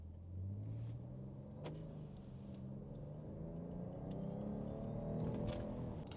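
A 2022 Jeep Grand Cherokee pulls away in drive, its engine humming steadily and rising gently in pitch from inside the cabin, a low continuous rumble with no talking.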